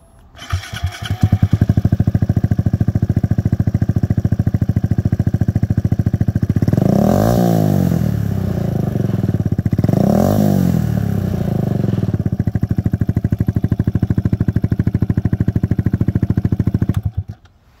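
A small motorcycle engine idles with a rapid putter, then revs sharply twice in quick succession before settling back to a steady, loud idle.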